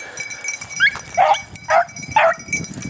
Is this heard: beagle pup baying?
yes